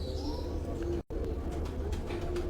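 Pigeons cooing inside a loft, soft repeated low coos and murmuring close by, with a brief dropout partway through.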